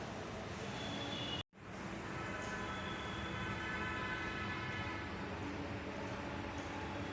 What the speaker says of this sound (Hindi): यहाँ पे बैठे हुए हूँ मैं बनारस स्टेशन पे, और ट्रेन आने वाली है।